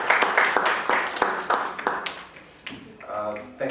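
An audience at a youth app launch event clapping, a run of sharp, fairly close claps that thins out near the end as a voice starts speaking.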